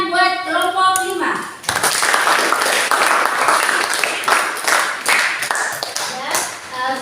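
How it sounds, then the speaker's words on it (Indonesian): A secondary school class bursts into applause for one of its student groups. The dense, sustained hand clapping follows a brief tonal chime and continues for several seconds with scattered accents. "Jadi semua tepuk tangan buat kelompok 5."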